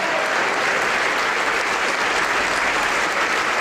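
A church congregation applauds during a sermon, a thick, sustained roar of many hands clapping at steady volume with no voices breaking through.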